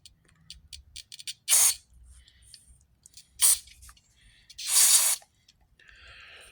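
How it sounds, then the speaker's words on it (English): Three short bursts of hissing spray, separated by pauses, with quiet clicks and handling noises between them. "I like spraying all those little holes, get them cleaned out."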